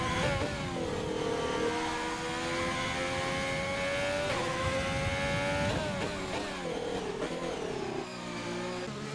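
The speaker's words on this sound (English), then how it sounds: "I'm not listening to Hobo's engine anymore" A video game race car engine whines and revs continuously in an Xbox race at Bahrain, pitch rising and falling through gear shifts, loud and close with no voices.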